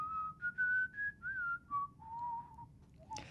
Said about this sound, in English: as he whistles an old song from long ago